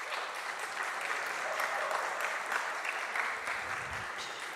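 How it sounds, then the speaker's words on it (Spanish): Audience applause fills a lecture hall at a Jewish cultural evening event, steady clapping from many hands at moderate volume, sustained throughout with no voices over it. "Daniel Strum, salva de palmas para ele"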